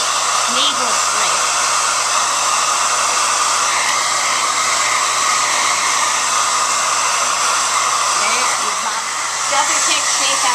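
A hair dryer blows steadily and loudly at close range while a brush shapes the hair for a pompadour, a constant whooshing roar that runs throughout with no pause.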